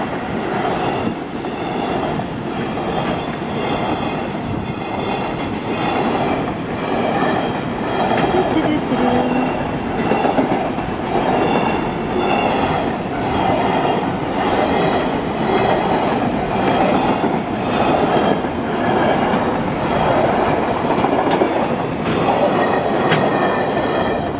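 A train rolls past on railway tracks in rural Japan, a loud continuous rumble with rhythmic wheel clatter and faint squealing throughout, close by and alone without talk.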